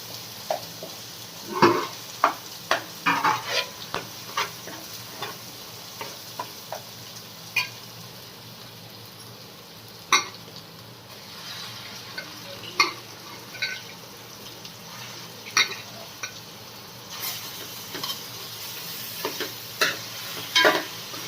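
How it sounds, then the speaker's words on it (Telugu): Pieces of fish frying in a pan of oil spiced with turmeric for fish curry: a steady low sizzle broken by sharp clinks and scrapes of a utensil against the pan, with no talking. "వేసి వేగాక ఇది కొంచెం పచ్చివాసన పోయాక చేప ముక్కలు వేయాలి"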